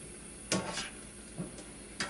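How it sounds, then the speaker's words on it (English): Spoon stirring broccoli in a pot on the stove, three quiet scraping strokes against the pot about a second apart over a faint background hiss. "make sure you keep stirring your broccoli"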